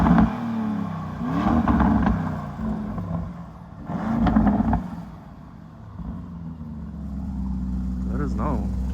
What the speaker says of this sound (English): I'm gonna do a couple revs for you guys so you can listen to it.